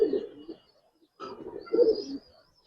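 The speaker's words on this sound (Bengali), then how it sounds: "দেখেন দেখেন কবুতর মাশাআল্লাহ" Kaldom pigeons give low, throaty coos in two close bursts separated by a short pause, heard nearby in a quiet setting.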